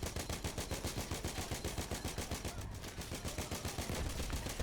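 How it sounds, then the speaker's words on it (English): Sustained automatic fire from an LMG in Battlefield 1, a loud, rapid, steady stream of shots running almost the whole clip with only a brief dip near the middle. "I'll just run around firing it like a maniac."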